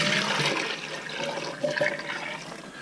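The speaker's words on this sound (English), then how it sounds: "We're going to add in 1/2 gallon of milk." Half a gallon of milk pours into a pot of oyster stew, a gurgling, splashing liquid rush that swells and dips over a few seconds, close and fairly loud.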